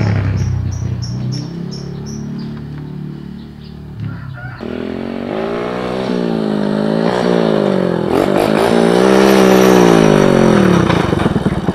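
A loud, rough, old worn-out motorcycle engine revs up and down in repeated wavering surges, close by, after a brief burst of chirping beeps.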